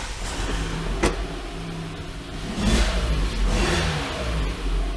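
Lada Largus 11189 engine with a manual gearbox, idling, then revving hard twice, with a loud mid-range roar and a brief click near the start. No speech.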